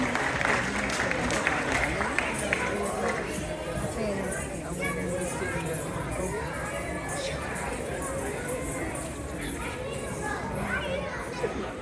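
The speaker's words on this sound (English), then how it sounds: "Let's give them a big round of applause," A large audience applauds steadily at a performance event, with thick, sustained clapping mixed with crowd chatter and cheering that continues throughout.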